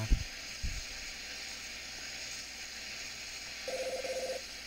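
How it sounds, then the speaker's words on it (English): A telephone rings in the point-and-click adventure game Ben Jordan Case 2, a short burst of rapid electronic trills near the end after a couple of soft thumps, faint over a low background hum. "why does the phone always ring when I'm in the shower?"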